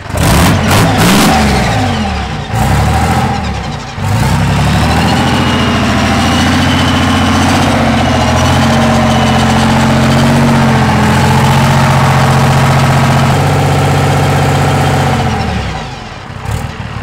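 Engine of a military armoured personnel carrier under restoration cranking, catching and revving, then settling into a loud steady idle with a deep rumble up close, stumbling briefly before cutting out.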